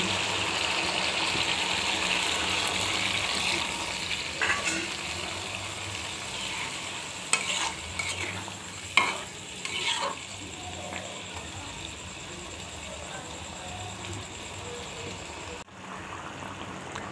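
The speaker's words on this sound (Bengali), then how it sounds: "এর মধ্যে আমি দিয়ে দিচ্ছি পানি" Water poured into a pan of curry cooking with spices, then stirred, giving a steady broadband hiss and sizzle with a few louder clinks and scrapes from the stirring.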